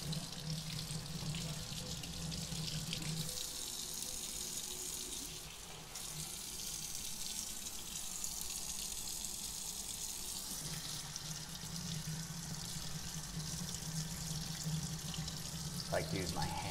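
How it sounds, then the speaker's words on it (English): Water runs from a sink faucet into a stoppered basin to rinse cyanotype prints, a steady, loud splashing hiss that shifts slightly as a hand redirects the stream. "Like to use my hand to direct the water since the faucet itself doesn't do a great job"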